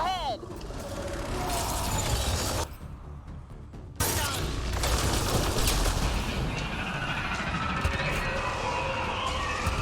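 Sci-fi gunfire from Mass Effect: Andromeda, dense bursts and rapid shots over combat noise and a loud game soundtrack, with a short lull before the shooting resumes; a voice speaks over part of it.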